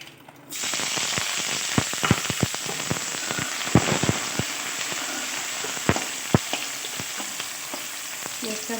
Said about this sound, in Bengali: এবার তেলের মধ্যে পেঁয়াজ কুচিটা দিয়ে দেব।